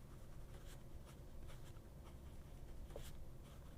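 A Montblanc 146 fountain pen with a wet nib makes soft, repeated scratching strokes on paper, close and fairly quiet, with no talking.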